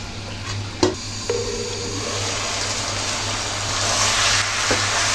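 Continuous sizzle of broccoli, potato and peas frying with spices in a pan, with a couple of sharp utensil clinks early on, steady and close, low hum underneath.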